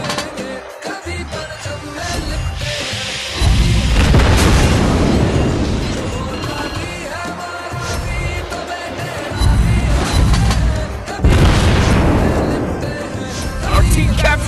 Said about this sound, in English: Anti-aircraft gun on full alert.